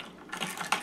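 A small hand-cranked nut grinder with little rotating blades chops pecan halves, a brief close burst of dry crunching and clicking that grows louder partway through.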